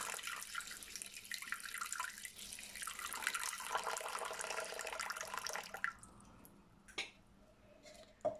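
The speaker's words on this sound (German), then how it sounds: "als erstes gebe ich hier 220 Gramm Wasser in den Mixtopf" Water, 220 grams of it, is poured into a Thermomix mixing bowl, making a steady close splashing stream for about six seconds that stops, followed by a few small drips and clinks.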